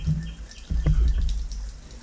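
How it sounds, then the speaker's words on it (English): Water drains and trickles out of an outboard motor, a low gurgling splash with a few drips, steady and close. "There's the water gonna come out."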